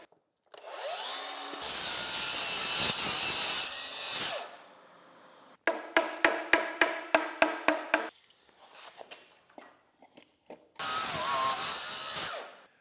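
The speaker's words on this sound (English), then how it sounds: "Cut this whole stack of SmartSide." A power saw cuts through a stack of SmartSide siding boards with a loud sustained whine, then a run of rhythmic ratcheting clicks, and another burst of sawing close by.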